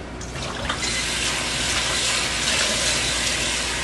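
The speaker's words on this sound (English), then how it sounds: "get a fresh bowl of water." Tap water gushing steadily into a fresh bowl for washing a Revell 1/144 scale German U-boat VIIC model kit, a loud continuous splashing stream.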